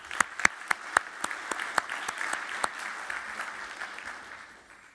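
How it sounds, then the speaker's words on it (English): An audience at a fibre broadband industry conference award ceremony applauds a winner with a spell of clapping, loud distinct claps at first that thin out and fade away. "Round of applause for Matthew."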